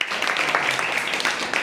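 A classroom bursts into applause for a student, a dense wash of many hands clapping at once, loud and close, held steadily for a couple of seconds.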